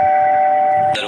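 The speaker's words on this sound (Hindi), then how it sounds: "दरवाजे की घंटी बजी।" A doorbell at a home's front door gives one sustained electronic tone that holds steady, loud and close, then breaks off into a brighter shift at the end.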